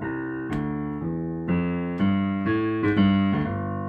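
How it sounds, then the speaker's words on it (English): Jazz walking bass line with steady, evenly spaced notes stepping along about twice a second, played clearly and alone, with a chordal keyboard-like tone sustaining above it. "It tends to have this, what we call a walking bass line"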